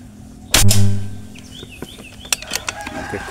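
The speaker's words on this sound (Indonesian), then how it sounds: "Tembakan kelima." A single sharp rifle shot cracks loudly at close range, followed by a short decaying tail and scattered faint clicks and handling noises.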